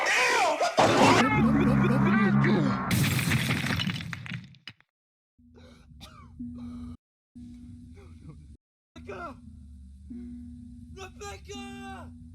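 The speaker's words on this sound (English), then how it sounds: "You just crashed your car" A car crash in a horror video game: a loud smash with breaking glass and crunching debris for a few seconds, then fading into quieter scattered cracks and tinkles over a low steady hum.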